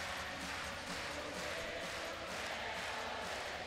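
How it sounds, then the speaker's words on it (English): Handball arena crowd at a Denmark versus Hungary European championship match, a steady dense roar of cheering and chanting filling the whole moment, with no single voice standing out. "And the crowd are getting in better and better mood here."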